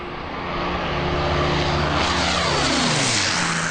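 A de Havilland Mosquito WWII bomber roars overhead at Ardmore Airport near Auckland, its propeller engines swelling loud and close, then dropping in pitch as it passes and moves away.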